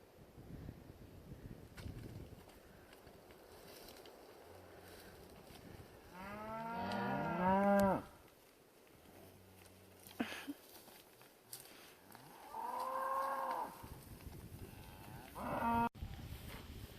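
Farm cattle mooing in the open, several long drawn-out calls from a few animals spread across the stretch, with wind rumbling steadily behind them.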